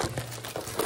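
Plastic udon noodle packaging is opened by hand, producing quick close crinkling and rustling bursts over a low steady hum.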